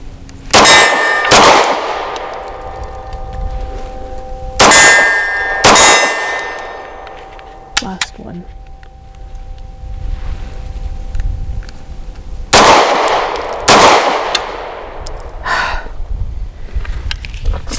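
Pistol shots from a Radom Vis 100 M1 ringing off steel targets, loud sharp cracks in pairs and small clusters, each followed by a bright metallic clang that rings out between spaced pauses.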